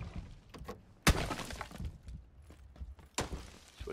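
A grenade blast in PUBG, a sharp, loud burst followed about two seconds later by a second heavy crack, over a rumbling game background.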